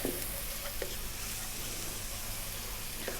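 Oregano and chili powder being stirred into a sizzling pan of cooking for a prawn dish, with steady loud frying hiss throughout and a few sharp scraping clicks of a utensil.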